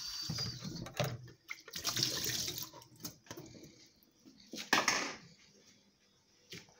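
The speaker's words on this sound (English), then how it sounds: "I'm going to wash my ginger and then cut my ginger." Water from a tap splashes in bursts as ginger is rinsed under it, the flow starting and stopping with quieter gaps and a couple of sharp splashes.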